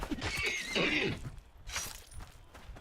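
Horse neighing in a video game, a loud close whinny followed by a second shorter call, with faint hoof-like clatter underneath.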